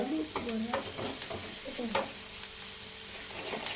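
Food sautés in a pan after salt is added, while cooking fish curry, a continuous close sizzle broken by a few stirring scrapes and clacks of a spoon.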